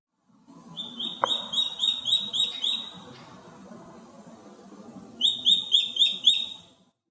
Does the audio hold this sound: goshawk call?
yes